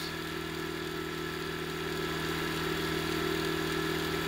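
A 3D printed pulse motor rotor spinning fast at 2400 RPM gives a steady, continuous whir with a constant hum and no letup, fairly loud and close.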